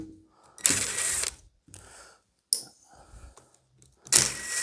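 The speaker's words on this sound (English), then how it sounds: "now we just got to pull these 2 little screws out" Small screws come out of a tiller's cover, giving quiet mechanical clicks and turning sounds in short separated bursts with a couple of sharper scrapes and near silence between them.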